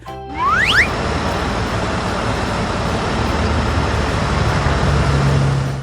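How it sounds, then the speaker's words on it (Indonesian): A dump truck's heavy engine rumbles steadily nearby, with a brief rising whine or squeal at the start, continuous and fairly loud. "Nah, ini dia jagoan pengangkut material. Namanya truk pasir atau dump truck."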